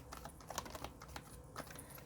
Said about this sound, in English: It's a large deck, so I'm going to shuffle it in 2 piles.